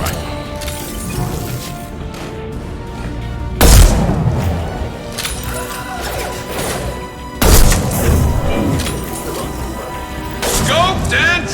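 Rifle shots in Mass Effect 2 land as two heavy, booming cracks several seconds apart, set against loud combat noise and music from the game.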